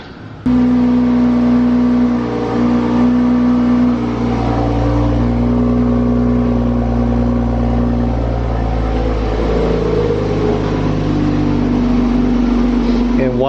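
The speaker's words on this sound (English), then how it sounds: "So we're gonna cold start the Supra." A 2020 Toyota Supra engine cold starts with a sharp catch, then settles into a loud, steady, droning high idle close by that runs uninterrupted to the end.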